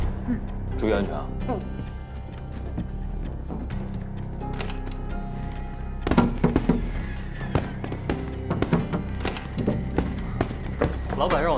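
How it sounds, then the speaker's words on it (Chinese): Fireworks go off in a series of sharp cracks and thumps, scattered bursts that grow denser later, mixed with background voices and music. "小三爷，烟花表演结束了。"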